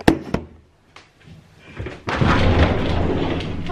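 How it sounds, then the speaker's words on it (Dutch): A house door being opened with some difficulty: a few sharp knocks and thuds up close, then a loud, continuous rushing noise as it comes open. "ik krijg de deur zo niet open"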